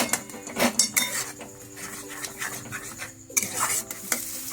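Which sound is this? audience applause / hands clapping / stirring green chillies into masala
stirring green chillies into masala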